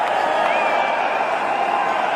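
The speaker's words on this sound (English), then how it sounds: "The crowd finally getting into it." Crowd at a cricket stadium during an India vs Australia match roars and cheers as MS Dhoni hits boundaries, a steady, dense wash of noise holding at one level throughout.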